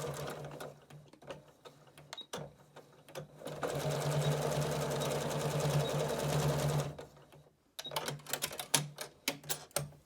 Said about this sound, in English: I'm going to back stitch a few times just to put a little extra strength there